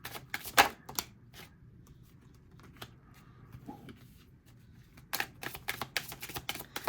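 Tarot and oracle cards riffle and snap in quick bursts, a flurry of crisp shuffling at the start, a quiet pause, then another rapid run of card clicks near the end.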